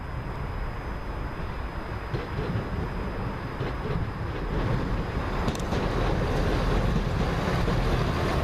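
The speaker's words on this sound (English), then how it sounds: "Down there's a cross-country Class 170 coming in." A Class 170 diesel train rumbles in steadily, its low engine drone growing slightly louder over several seconds, with a faint high tone and wind noise on top.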